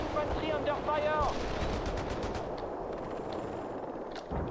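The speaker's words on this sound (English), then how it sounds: "Infantry under fire!" Rapid gunfire hitting infantry in the real-time strategy game World in Conflict, dense bursts of automatic fire mixed with louder shots, with a brief radio-style voice at the start.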